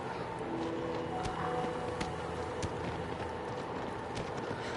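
Horse hooves in the Shadow of the Colossus video game trot with faint, uneven clip-clops over a soft, wind-like background, and there is no speech.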